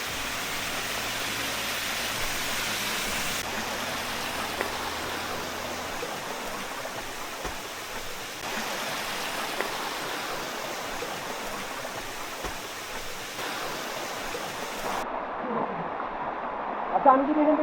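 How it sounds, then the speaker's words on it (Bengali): A waterfall on a forest trail near Sitakunda rushes with a broad, steady roar of falling water, continuous and fairly close, with a few faint knocks and a brief shift near the end. "এই যে ঝর্ণা চলে আসছে।"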